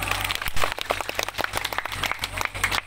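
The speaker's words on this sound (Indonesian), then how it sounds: "Tepuk tangan Bapak Mama." Applause from a crowd of villagers at an outdoor cultural gathering in Sumba, a dense steady patter of many hands clapping throughout, fairly close, with a low hum underneath and stray voices mixed in.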